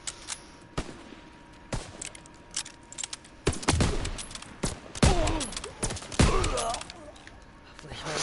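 Gunfire in the World War II shooter Call of Duty: WWII, sharp isolated shots early giving way to dense, loud bursts of automatic fire with echoing crashes, over a low game ambience.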